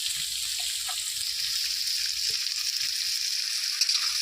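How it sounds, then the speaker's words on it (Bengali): Potatoes frying in a pan for cabbage chops, a steady close sizzle running evenly throughout with a few faint soft clicks and no talk. "এবার আলুটা সুন্দর করে ভেজে নিই।"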